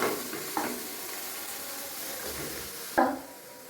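Carrots frying in a pan for a sago khichuri, giving a steady low sizzle with a couple of louder stirring scrapes and knocks near the start and toward the end, close and alone with no voices.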